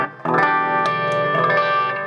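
A guitar plays through an MXR Flanger pedal on a clean amp channel, the modulation faint. It sustains as a ringing chord, with a soft start, a fresh strum after a quarter second and steady level to the end.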